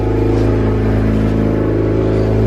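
A 2018 Honda Accord engine idles while warming up, with a loud, steady, close rumble and a faint pulsing throb and no voices over it.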